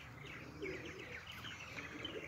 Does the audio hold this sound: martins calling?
yes